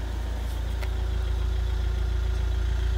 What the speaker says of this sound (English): my car decides it wants to do a regen of the DPF as I get home